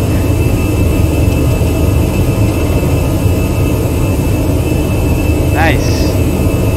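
Jet engines of an Alitalia A319 on its takeoff roll in Prepar3D, a loud, steady broadband roar holding constant throughout, with a brief chirp near the end.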